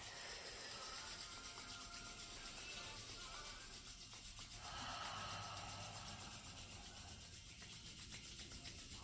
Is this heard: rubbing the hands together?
yes